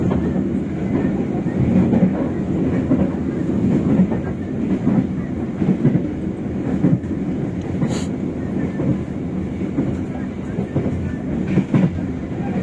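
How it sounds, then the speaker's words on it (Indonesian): Brantas passenger train rolling along the rails, a steady loud rumble with rhythmic clickety-clack and wind buffeting, continuing throughout. "Perjalanan kereta api berantas setelah sampai di stasiun Tegal."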